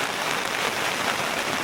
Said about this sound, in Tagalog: Bilang buhos na malakas na ulan.